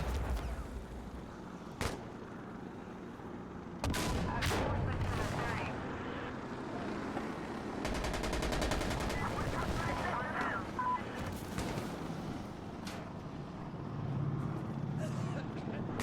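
Gunfire and rockets in the online shooter Insurgency: Sandstorm: sharp shots and heavy booming blasts, some rumbling and distant, one long rattling burst, all mixed with players talking.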